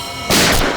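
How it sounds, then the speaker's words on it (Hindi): A sudden loud burst of TV-drama gunfire erupts inside a room after a quiet moment, a dense crackling volley that rings briefly and then fades slightly. "अंदर से गोलियां चलने की आवाज आ रही है।"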